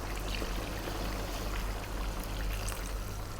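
Water is poured into a pot of lamb curry, a steady, quiet rushing stream that runs unbroken from start to finish without any talk.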